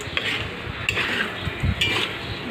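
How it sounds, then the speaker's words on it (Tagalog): Eggplant being stirred in a pan: scraping utensil strokes and small metallic clinks against the cookware repeat irregularly over a soft background sizzle, close up with no talking. "Tapos haluin natin."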